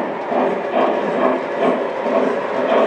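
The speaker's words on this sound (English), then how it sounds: "The trains are running along a shelf, and at each end is a turnarounds." Model trains run along a shelf layout with turnaround loops at each end, giving a continuous rumbling, rhythmic clatter of wheels on track that stays fairly loud and even throughout.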